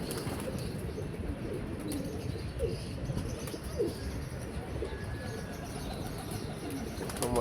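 Pigeons coo softly amid scattered chirps and bursts of wing flapping as a flock is released into strong wind, a continuous low murmur of birds with occasional flutters, fairly faint and without speech.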